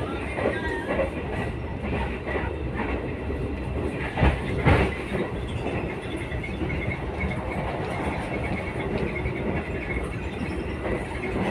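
Gajayana passenger train picking up speed after leaving Blitar station, a steady loud rumble of wheels with rhythmic clickety-clack over rail joints and a brief louder surge midway, heard from inside the carriage.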